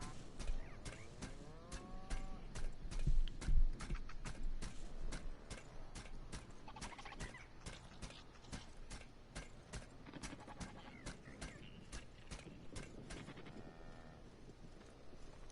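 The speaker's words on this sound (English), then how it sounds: "Oh, the woolly cows." Woolly cows in the video game The Outer Worlds low and bleat repeatedly, several overlapping animal calls over a steady game ambience with rhythmic clicking, moderately close.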